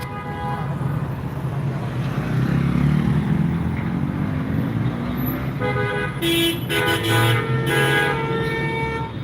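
Car horns honk repeatedly on a Santo Domingo street, a cluster of short blasts rising over steady traffic rumble and road noise later on, with no speech.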